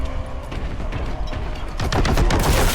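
A heavy bolter in Warhammer 40K: Boltgun fires repeated booming shots that grow denser and louder toward the end, over game noise.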